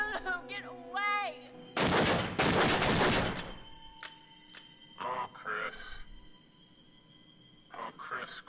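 A pistol in the horror video game Until Dawn fires blanks, with a few sharp loud bangs in quick succession followed by scattered clicks and short bursts, with speech nearby before and after.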